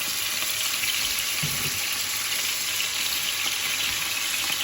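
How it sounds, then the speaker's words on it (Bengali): Mirka fish frying in oil gives off a steady, dense sizzle from start to finish, with one brief lower bubbling burst partway through. "তারপরে একটু ফ্রাই করে নিচ্ছি মাছের মধ্যে গন্ধ না"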